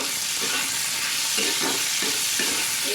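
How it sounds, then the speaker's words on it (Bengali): Tempering spices for prawn dopiaza frying in hot oil, a dense steady sizzle with a few soft tossing strokes near the end, close and fairly loud, with no voices. "এটাকে জাস্ট হালকা করে টস করার মতো করে একটু ফ্রাই করে নিতে হবে।"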